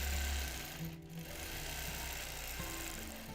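A sewing machine runs steadily while free motion quilting along piecing guidelines, a close continuous mechanical whir with a slight dip in pace partway through.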